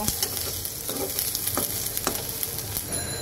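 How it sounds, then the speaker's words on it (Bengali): Onions and green chillies frying in a pan, a close, bright sizzle with spatula scrapes punctuating it, steady and loud with no voices. "পেঁয়াজটাকে এখন 2-3 মিনিট ভেজে নেব।"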